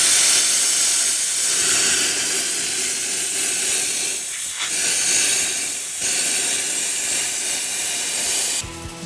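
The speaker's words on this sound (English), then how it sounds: "I'm jigged up here to run the plasma cutter along there" A plasma cutter slices along a jigged metal strip during a livestock stone graip build, giving a loud, steady close-up hiss that runs almost unbroken for about nine seconds before cutting off abruptly.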